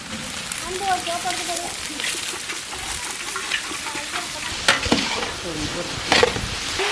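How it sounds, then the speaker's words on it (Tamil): Spices spluttering in hot oil, then cabbage frying in a pan for a home cooking dish: a steady crackling sizzle with sharper pops and scraping stirs, close by, with a person talking over it. "எல்லாம் நல்லா பொரிஞ்சிருச்சு முட்டைக்கோசை சேர்த்துக்கலாம்"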